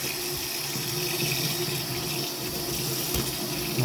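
Running water pours steadily onto a floor, rinsing away foam in a continuous close splashing rush with no pauses.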